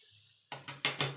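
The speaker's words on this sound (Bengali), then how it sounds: "এবার এইগুলো ভাজার জন্য একটা কড়াই বসিয়ে দেবো" A metal kadai set down on a stove, a quick series of four clanking metallic knocks in close succession, near and fairly crisp after a moment of near silence.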